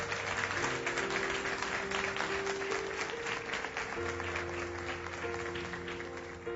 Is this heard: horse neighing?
no